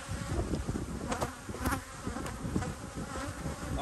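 Honey bees from an inherited apiary hum in a steady, dense buzz close by, with individual bees flaring louder as they pass near, continuous throughout and with no talking.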